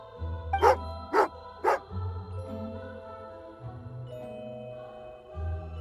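Three sharp dog barks ring out in quick succession within a video game scene, followed by soft chiming tones and a low ambient game soundtrack.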